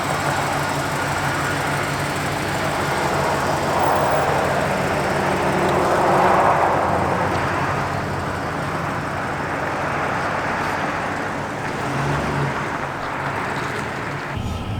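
A lifted Chevy Express van with a 3.5-inch lift and newly installed gears on its first short test drive, giving a steady, loud engine and road drone that swells slightly midway and continues unbroken.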